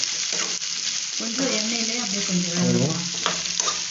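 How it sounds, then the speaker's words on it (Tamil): Asafoetida sizzles steadily in hot oil, a dense continuous crackle close up with a faint tonal hum briefly rising beneath it. "இது நல்லா அப்படியே கொஞ்சம் ஃப்ரை பண்ணுவோம்"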